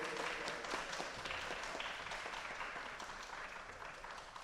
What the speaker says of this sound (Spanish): Un aplauso para el maestro, por favor.